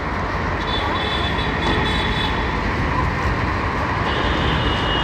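A metro train gives a loud, steady rumble and roar that holds without a break for the full five seconds.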